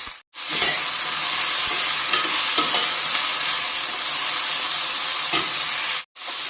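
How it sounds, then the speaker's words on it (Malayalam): Chopped ivy gourd tossed into a pan of sautéed onions for a thoran, letting out a loud, close, steady frying hiss with stirring scrapes, briefly cut off at the start and again near the end. "സവാള വഴന്ന് വന്നിട്ടുണ്ട്. അതിലേക്ക് അരിഞ്ഞു വെച്ചിരിക്കുന്ന കോവയ്ക്ക ഇട്ട് കൊടുക്കാം."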